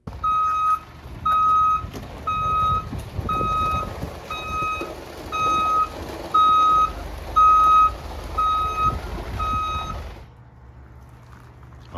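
A delivery truck reverses with a loud, evenly spaced backup beeper sounding about ten times over a rumbling engine, then stops and leaves a low idle.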